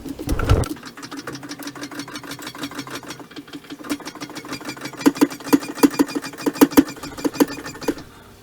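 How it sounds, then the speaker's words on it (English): Hydraulic foot pedal being pumped on a Clarke Strongarm CML3 motorcycle lift table, giving a steady series of sharp mechanical clicks and knocks over a low whir, growing louder and more evenly spaced toward the end. "So the only thing left to do would be to pump it up. So stick the pedal on and start pumping."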